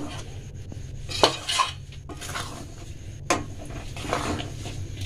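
A spoon scrapes and knocks around a cooking pot while rice flour paste is stirred in, giving a few sharp metallic clinks and a soft continuous swishing, close and fairly loud.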